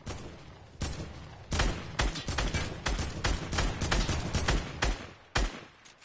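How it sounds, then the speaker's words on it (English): AK rifle fire in a video game, a run of sharp, loud, closely spaced shots in quick bursts, near and dominant with little else around them. "I'm gonna take a few shots because it's AK OP though."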